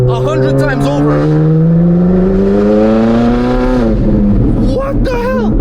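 Ferrari 458 Spider fitted with F1 race exhaust headers bellows very loudly and close, its engine note climbing steadily as it revs, then dropping and surging again.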